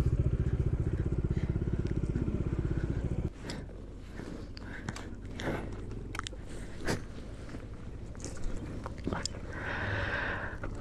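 A motorcycle riding downhill on a road trip from Bannari toward Mangalore through Coorg: a steady close engine drone at first, then a lower idle rumble with wind buffeting, scattered clicks and rustles.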